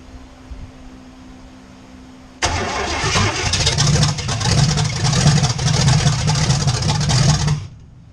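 A V8 with throttle-body injection, freshly swapped in to replace a V6, cranks and catches, then runs unevenly for about five seconds at close range before shutting off; no one talks over it.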